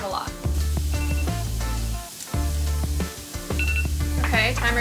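A kitchen timer beeps in a repeated pattern while potatoes cook for breakfast burritos, the tones sounding in bursts under and between a person's talking and kitchen noise.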